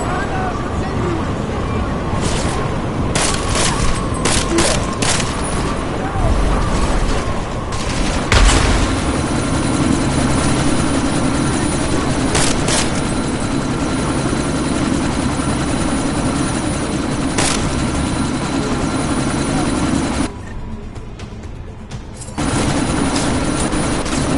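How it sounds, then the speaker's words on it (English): A helicopter in the video game Deus Ex: Mankind Divided, flying through a sandstorm, gives a loud, steady rotor drone that fills the whole stretch and dips briefly near the end, with occasional sharp impacts. "you need to disable that chopper"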